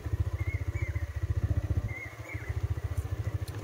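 A motorcycle ridden over a rough, frightening hill road, its engine putting out a steady, rapid low thumping that stays close and fairly loud throughout, with a brief dip in the middle.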